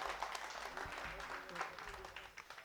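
An audience applauds as a tribute at a memorial gathering, dense continuous clapping from a crowd, fairly faint and even throughout with no single voice standing out.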